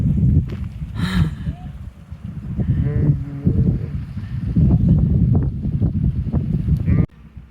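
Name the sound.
sheep around an old building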